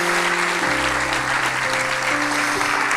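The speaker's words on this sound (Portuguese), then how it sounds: "Vamos aplaudir Jesus bem forte." A church congregation applauds loudly and continuously, a dense wash of clapping filling the room without a break.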